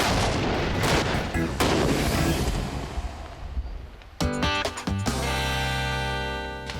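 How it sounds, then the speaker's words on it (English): A barbecue propane tank blast during a test, a loud booming roar that decays into rumbling, followed by sharp repeated crackles and a ringing, buzzing tone. "And who can say no to another explosion?"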